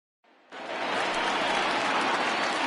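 A baseball stadium crowd applauds, a brief faint patter that swells quickly into steady, full clapping from a thinned-out crowd for the rest of the moment.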